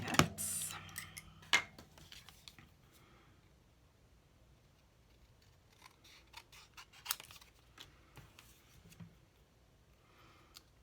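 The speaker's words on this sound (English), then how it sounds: "So I'm just gonna cut that out with my snips." Snips cut out a paper shape in a few quiet, crisp snaps, scattered between long stretches of near silence.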